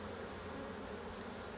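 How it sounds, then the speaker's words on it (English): Honey bees buzzing in a steady, close drone around an open hive after being shaken off a frame, with no talk over it. "So you can see we're getting more and more bees as I've shaken them off."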